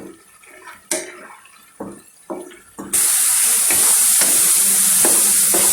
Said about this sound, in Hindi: और इसकी अच्छी तरह से भुनाई करेंगे।